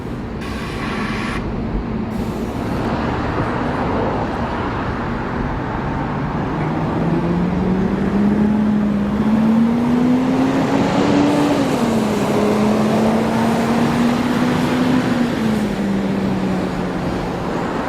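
London double-decker bus PVL412 on route 118 running with a steady engine drone that rises in pitch as it pulls away, a loud continuous rumble with no talk.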